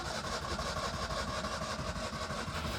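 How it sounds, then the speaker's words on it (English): A car's starter motor cranking the engine in a steady, rapidly pulsing whir that holds without catching, fairly faint and alone. "the starter is actually turning the engine"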